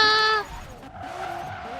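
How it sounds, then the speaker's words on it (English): A car drifting in Forza Horizon 3, its tires skidding and squealing in a short sustained screech that cuts off quickly, followed by lower engine and slide noise. "We got a MK6 in the parking lot drifting right now"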